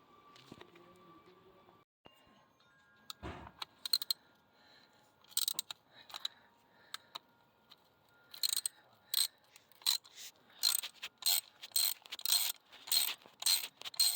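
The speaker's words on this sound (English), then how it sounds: "Get these transmission pan bolts out, then we'll get the cable out." Transmission pan bolts come out of a 1964 Dodge that sat for 30 years, with a ratchet clicking in quick repeated bursts and a few metallic clanks, close and fairly quiet.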